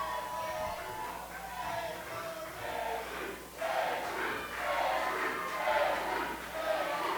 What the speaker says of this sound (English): This crowd rallying behind Avery Hertz.